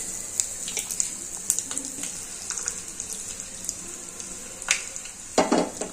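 Urad dal roasting in a pan for a South Indian idli breakfast makes a steady, soft sizzle broken by occasional louder stirring scrapes, heard up close with no talking.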